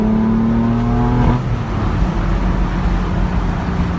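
A BMW M4 convertible with a turbocharged six-cylinder engine drives along with a loud, steady engine drone whose pitch drops and shifts partway through, without speech.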